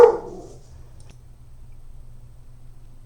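A single loud, close dog bark right at the start, followed by quiet room tone with a low hum.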